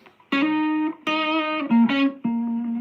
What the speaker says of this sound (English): when you want to play something with the low overdrive, not with the high distortion.